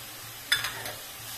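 Sweet modak filling with raisins, poppy seeds, almonds and cardamom being sautéed in a pan: a faint low sizzle with a brief burst of spatula scraping and stirring near the middle, no talk.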